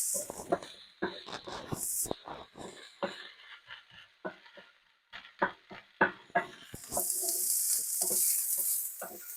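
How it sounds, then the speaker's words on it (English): Kielbasa and onions sizzle in a hot pan amid clattering and stirring, with hissing bursts that swell loudly near the end. "Get ready for some sizzle here."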